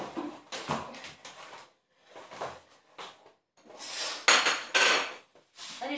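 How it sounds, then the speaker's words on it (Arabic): Dishes clatter as a plate is pulled from a stack, several separate bursts of close ceramic clinks and knocks with short quiet gaps between them. "سمحوا لي نجيب صحن."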